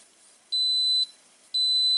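An Instant Pot gives two sustained high electronic beeps at the end of its countdown, each about half a second long, spaced evenly apart, loud and clear against a quiet background.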